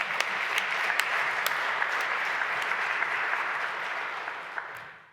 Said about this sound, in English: Let's give that hand a clap.